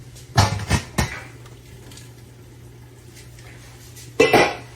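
A metal cooking pan knocks and clatters on a stovetop as boiled turkey bones are lifted out of stock for gumbo, with a few sharp clanks near the start and another at the end, quiet between.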